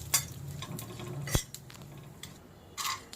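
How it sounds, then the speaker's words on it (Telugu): Urad dal and chana dal frying in a pan with mustard seeds, a soft sizzle under sharp clinks of a metal spoon stirring against the pan, close and intermittent. "ఆ తర్వాత శనగపప్పు వేసి కొంచెం రంగు వచ్చే వరకు వేయించాలి"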